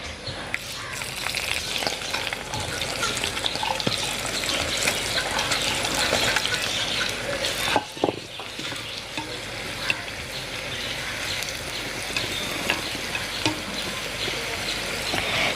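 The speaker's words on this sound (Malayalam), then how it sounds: "ബാക്കിയുള്ളതും ഇതേപോലെ തന്നെ നമുക്ക് വറുത്തെടുക്കാം" Food frying in hot coconut oil, a continuous close crackling sizzle with scattered pops and brief stirring scrapes, steady throughout with one short pause.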